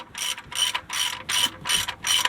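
A hand ratchet clicks in six quick bursts, evenly spaced, tightening a car's oil pan drain plug during an oil change, close and clear with no talk.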